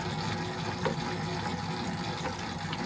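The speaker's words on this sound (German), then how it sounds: "immer wieder ein bisschen Wasser dazu" Water trickles and splashes steadily into high-hydration biga pizza dough churning in a spiral mixer on speed 3, a continuous close wash of liquid and machine noise with no talking.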